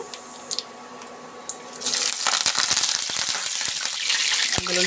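After a quiet start with a few clinks, a loud crackling sizzle of mustard seeds in hot oil bursts in and continues with dense popping, close by, while tempering for an amla pickle.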